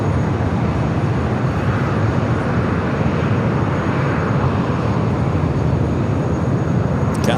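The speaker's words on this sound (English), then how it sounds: "Latam 767 300ER up next for takeoff" A Latam Boeing 767-300ER taking off at LAX at night, a loud continuous low engine roar and rumble holding steady throughout, with no voices.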